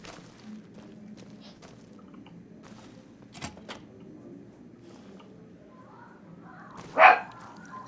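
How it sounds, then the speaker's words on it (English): A dog barking in the video game Fallout: New Vegas, heard as one sharp bark near the end over quiet game background ambience. "Why are you barking so much?"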